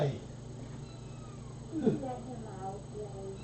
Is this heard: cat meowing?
yes